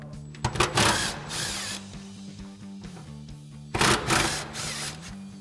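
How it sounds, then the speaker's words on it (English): An impact wrench with a 10 mm socket spins off mounting nuts on a Jeep Wrangler JK, giving two loud buzzing bursts separated by quieter handling noise. "we'll go ahead and grab our 10 mil socket on our impact again"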